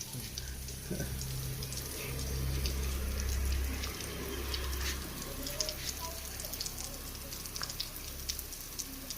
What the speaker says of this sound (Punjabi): ਉਹਨਾਂ ਦੀ ਕੋਠੀ ਤੋਂ ਅਸੀਂ ਪਾਣੀ ਭਰ ਰਹੇ ਆ